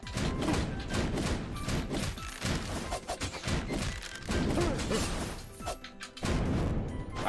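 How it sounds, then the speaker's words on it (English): Enemies burst apart one after another in Skul: The Hero Slayer, a run of heavy crashing thumps and smashes in several loud clusters amid dense game combat noise, with no talk. "Why are they exploding?"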